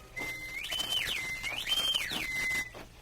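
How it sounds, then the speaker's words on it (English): Someone whistles a clear, melodic signal at night in a radio drama, rising and falling in short phrases for about two seconds against quiet surroundings. "a whistle broke the stillness of the night."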